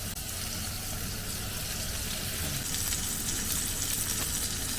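A steady, close-up sizzle of steak frying in a hot cast iron pan, an even crackling hiss with no talking.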